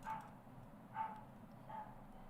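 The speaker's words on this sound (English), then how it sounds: "My dog is barking downstairs. You could probably hear that." A dog barking downstairs: three short, muffled barks spaced roughly a second apart, distant and faint through the house.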